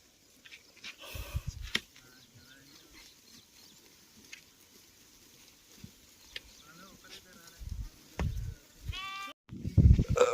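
Sheep bleat intermittently, a few calls near and far, amid outdoor rustling and some brief bumps and thumps.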